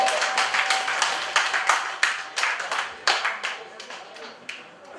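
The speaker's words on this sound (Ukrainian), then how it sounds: "Під ваші оплески файно хлопаємо, не жаліємо." Audience clapping at a wedding couples' guessing contest, a dense run of hand claps with irregular louder bursts, fairly close, rising and falling across the clip with some voices mixed in.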